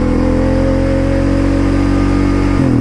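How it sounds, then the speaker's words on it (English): A quad bike engine with a manual clutch revs high under throttle, a loud, sustained, steady drone with strong tonal whine that holds near constant before dipping slightly at the end, no voices over it. "The RPMs are getting way too high, way too loud."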